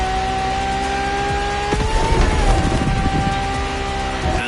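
Ferrari LaFerrari hybrid sports car in The Crew Motorfest, its engine holding a steady high tone before shifting midway, joined by a rough burst of tire noise and a rising engine note toward the end.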